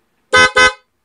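A loud aftermarket dual car horn installed alongside the stock horn, honking two short, strong blasts in quick succession, close and alone with no talk.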